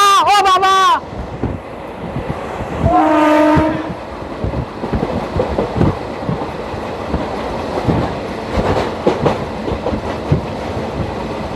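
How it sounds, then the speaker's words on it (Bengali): An Indian express train, the Kolkata–Digha special, rolls along with a steady rattling clatter of wheels over rail joints, close and loud. Long horn-like tones sound at the start and again about three seconds in, above the continuous rumble. "দেখো, আমাদের ট্রেনটা এখন বালিহল্ট পেরিয়ে রাজচন্দ্রপুরের দিকে যাচ্ছে।"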